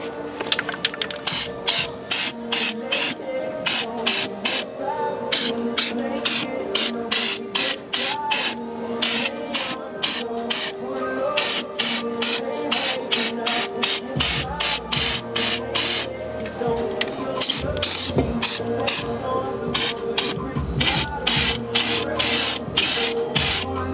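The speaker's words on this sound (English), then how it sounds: "I'm just spraying it just to cover it." Short hissing bursts from an aerosol can of rubberized undercoating repeat in a fast, steady rhythm, loud and close, with brief gaps between sprays.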